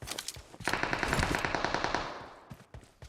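Rapid machine-gun bursts from the battle-royale shooter PUBG, a dense loud volley of about a second and a half followed by a few scattered single shots, with no talking.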